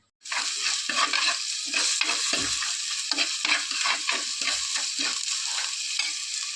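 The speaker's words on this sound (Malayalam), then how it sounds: "നമുക്കതിലേക്ക് വെളിച്ചെണ്ണ ഒഴിക്കണം" Coconut oil poured into a hot pot for a karimeen (pearl spot fish) mappas curry, a steady loud frying sizzle with light scraping running throughout, no talk.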